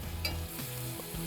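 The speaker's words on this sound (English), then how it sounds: "So I'm gonna add a little butter to my skillet. That is a hot skillet." Butter melts in a hot skillet, giving a soft, steady sizzle close by, with a faint stir or scrape in the pan and no talking.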